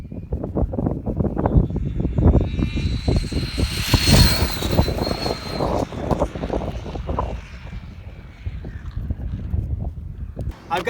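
A Traxxas Slash RC car, built as a short-course 100 mph project, accelerates with a rising, thin electric motor whine in the distance, largely buried under steady close-up talking and wind buffeting.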